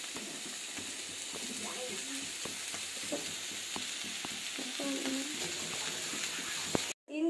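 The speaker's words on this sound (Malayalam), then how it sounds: "ഒരു കുറച്ച് ഇഞ്ചി പൊടി പൊടിയായിട്ട് അരിഞ്ഞതുകൂടെ അതിനകത്ത് ഇടണം." Finely chopped ginger hits a hot pan and fries while being stirred, giving a steady close sizzle broken by the clatter and scrape of a spoon against the pan.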